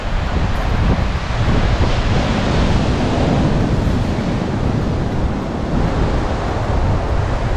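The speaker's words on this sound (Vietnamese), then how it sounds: "tại biển Quy Nhơn các bạn" Ocean surf at the beach at Quy Nhon on a sunny morning, a steady, loud wash of breaking waves mixed with wind buffeting the microphone, continuous with no voices.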